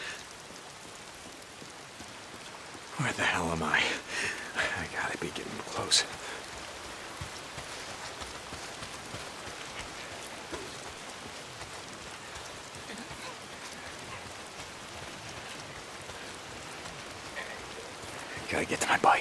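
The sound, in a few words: rain falling in Days Gone video game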